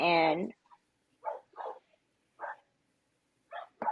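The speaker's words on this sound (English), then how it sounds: "barking in the background" Dog barking in the background: a louder drawn-out call at the start, then several short, muffled barks come in irregular bursts, sounding distant against otherwise quiet surroundings.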